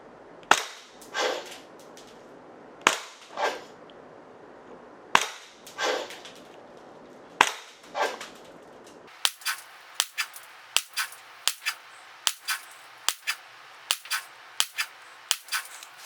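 A GHK Glock 17 Gen3 gas airsoft pistol fires during a grouping test: four widely spaced sharp cracks, each answered by a softer clack, then a rapid string of about a dozen crisp shots, loud and close with no talking.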